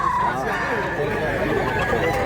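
Talisay-colored stag rooster about a year old and other chickens in Mantalungon, Cebu, giving dense clucking and fowl calls throughout, mixed with steady background noise and people talking.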